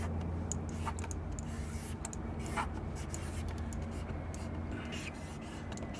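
A Pentel Shorty pen scratches steadily across paper in quick continuous strokes, close and fairly quiet over a low background hum.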